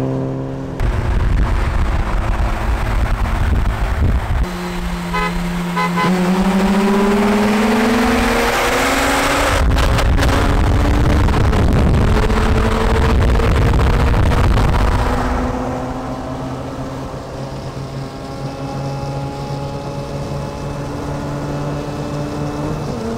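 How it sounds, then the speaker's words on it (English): A Mazda RX-8 rotary-engined car passes by on a road, its high revving engine note climbing as it approaches, peaking loudly up close, then fading away into the distance. "Typical Michael Vargas rides a flyby"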